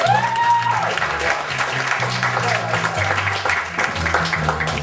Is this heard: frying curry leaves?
no